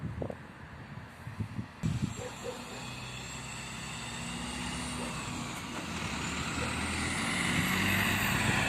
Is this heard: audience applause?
no